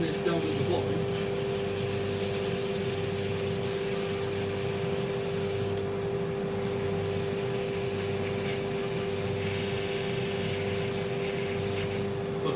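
Sandpaper is worked by hand, giving a steady, close, broadband hiss of abrasive rubbing that runs the whole time, with brief harsher bursts partway through and again near the end.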